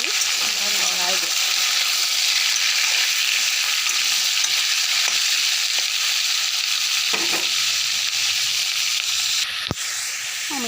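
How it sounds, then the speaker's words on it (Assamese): Chopped papaya stirred as it fries in a pan after onions, a loud continuous sizzle running throughout with occasional scrapes and knocks of a spoon against the pan. "অমিতাখিনি দি লৰাই দিওঁ।"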